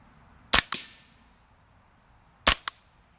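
Two pairs of sharp cracks from a suppressed AR22 rifle fired at night, each shot followed closely by a thin impact snap, the pairs spaced about two seconds apart over a quiet background.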